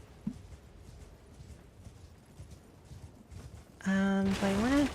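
Horse hooves clip-clop steadily at moderate volume in a video game, and a loud tonal, voice-like sound rises near the end.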